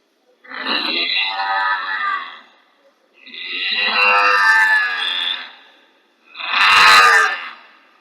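A voice imitates a cow with three long, drawn-out lowing calls separated by short pauses, close and loud, performed as a mimicry act at a school arts festival.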